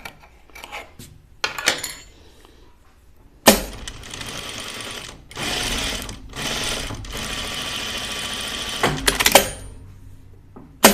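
A home sewing machine stitches a dress in several bursts, a loud mechanical whir that starts, stops and restarts, with quieter handling clatter between runs.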